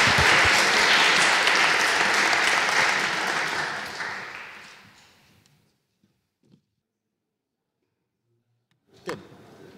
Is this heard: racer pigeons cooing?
no